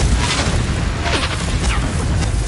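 Confringo spell explosions in Hogwarts Legacy, a steady, loud, booming roar of fiery blasts that fills the whole moment with no voices.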